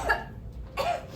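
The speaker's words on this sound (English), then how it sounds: "I needed to cough." Two short throaty coughs from a person, close and fairly loud, separated by a brief pause.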